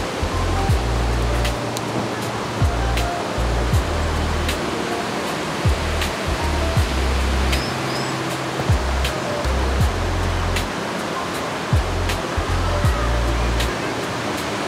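A river stream flows steadily and loudly at close range, a continuous broadband rush of water with low rumbling surges, filling the scene with no voices.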